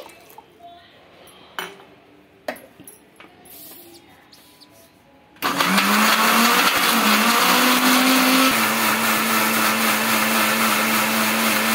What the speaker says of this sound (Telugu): ఆ తర్వాత చింతపండు అలాగే వాటర్ వేసుకొని మెత్తటి పేస్ట్లా చేసుకోవాలి